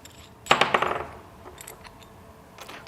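Metal parts of a puncture-proof wheelbarrow clank as the wheel is fitted, a cluster of close, sharp rattling clinks followed by fainter knocks.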